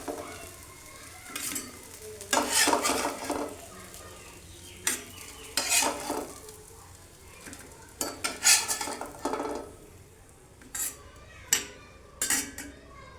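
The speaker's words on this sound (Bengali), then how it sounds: "এখন আমি বেগুনটা উঠিয়ে নেব" Fried eggplant stirred and lifted out of a pan, with bursts of spatula scraping and metallic clatter between quieter pauses and a faint sizzle underneath, close up with no voices.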